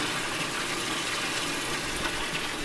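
Steady broadband rush of water gushing from an aquaponics return line into a grow bed of K1 media, continuous and close with no letup.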